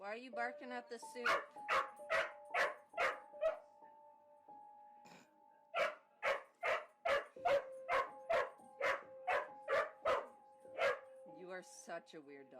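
A dog barks in a steady, evenly spaced series of loud, close barks, with a brief pause early on before the rhythmic barking resumes and continues.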